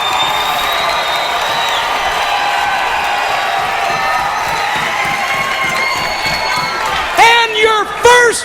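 Wrestling arena crowd at a TNA Impact event roaring and cheering in a steady dense wash, with loud whoops and shouts rising near the end.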